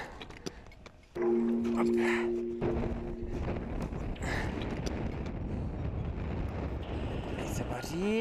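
Wind buffets the microphone during a mountain expedition climb, a rough, rumbling roar that surges after a quiet start and persists throughout, with people talking in Czech over it.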